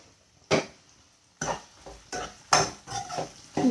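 Food being stirred and fried with salt in a pan in a home kitchen, several sharp scraping and clattering strokes of a utensil against the pan at irregular intervals.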